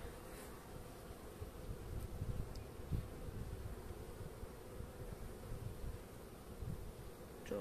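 Honeybees buzz steadily around an open hive in Trabzon in January, a dense low drone from many insects close by, continuous and alone without talk.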